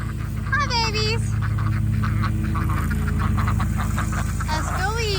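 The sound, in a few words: ducks quacking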